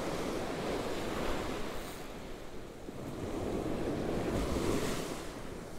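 Winter ocean waves break steadily on a surfcasting beach with a continuous roar of surf, and wind buffets the microphone throughout.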